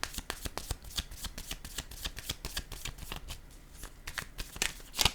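Tarot cards handled on a tabletop during a reading, giving a steady run of crisp, close papery flicks and slaps for the whole stretch, with no talking.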